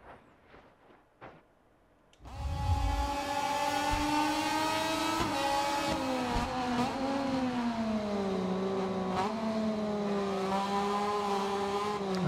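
Racing motorcycle in MotoGP 24 at full throttle, kicking in after a brief quiet lead-in with a loud high-revving engine whine that rises and dips as it shifts, sustained to the end.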